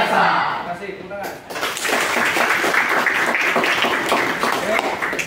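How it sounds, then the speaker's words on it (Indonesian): An audience at a morning class session breaks into applause after a brief spoken greeting, a few seconds of lively, fairly close clapping that follows some talk at the start. "Terima kasih, tepuk tangan."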